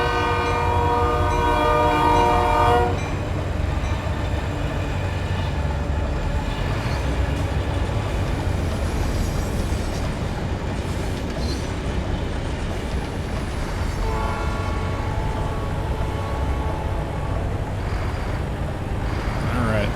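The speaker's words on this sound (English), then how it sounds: "Got a train coming through here" A freight train rumbles past a truck in American Truck Simulator, its horn blaring loudly in long tones at the start and again later, with heavy rolling wagon noise and someone talking over it.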